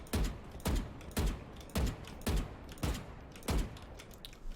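Gunfire in the game Valorant: six sharp single shots fired one at a time at a steady, roughly even pace, each a loud crack with a short tail, with no talking.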